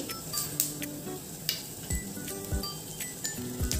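Light crackling and sizzling of mustard and cumin seeds in about a spoonful of hot oil, with soft scattered pops and a few faint clinks of a utensil against the pan.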